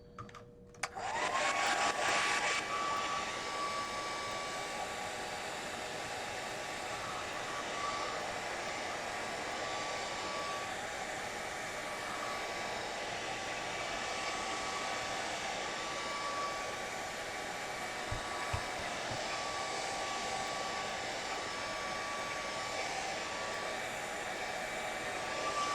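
A hair dryer blows steadily on a Gelli plate print for the whole stretch, a loud continuous whooshing whine starting abruptly and holding level, with a faint brief click near the end.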